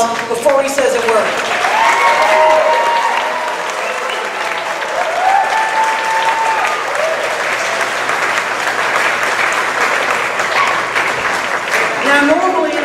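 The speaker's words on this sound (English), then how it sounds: "I want you all to give him a big round of applause before he says a word" Sustained audience applause at an Artspace talk welcoming author William Joyce, loud and dense, a roomful of hands clapping steadily with cheers and chatter mixed in.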